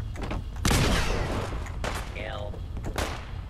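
A grenade blast erupts loud and sudden during a Fallout firefight, mixed with shots and clattering combat noise, with voices talking over it.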